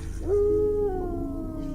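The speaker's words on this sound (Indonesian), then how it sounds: "dari kejauhan aku mendengar suara anjing melolong" A single dog howl rises and holds a long steady wavering note, fairly clear and alone, trailing off into quiet after about a second.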